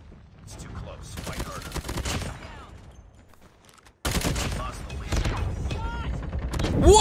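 Gunfire in Call of Duty Mobile during a Hardpoint match, rapid bursts of automatic shots crackling in two stretches separated by a brief lull, loud and close.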